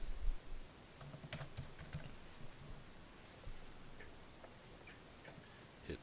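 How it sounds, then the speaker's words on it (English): Soft, quick tapping on a computer keyboard as a search is typed in, a steady run of faint clicks with no talking. "I would type in Kurt Vonnegut"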